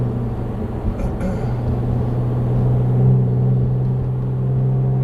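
A Pontiac G8 with a V6 engine and a leaky exhaust gasket idles and rises into a low, steady rumble heard from inside the car, the drone swelling slightly as it revs.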